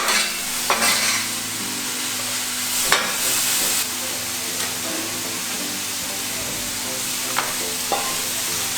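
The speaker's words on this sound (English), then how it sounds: "The cabbage must not be cooked to sugar, it must be just stir fried and half cooked" Cabbage stir-frying in a hot pan, a loud continuous sizzle and hiss with occasional sharper scrapes of the utensil, close up and steady throughout.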